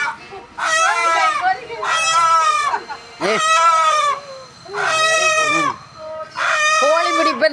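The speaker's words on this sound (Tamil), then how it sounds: "கோழி பிடிப்பது கிராமத்தில் எப்படி?" A native village chicken squawks and clucks in five loud, harsh bursts with short pauses between them as it is chased and caught.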